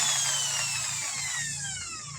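An electric drill whining steadily at high speed while lapping a motorcycle engine valve with diamond grinding paste, its pitch slowly falling as it grinds, close and continuous.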